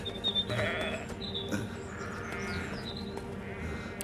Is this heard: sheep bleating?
yes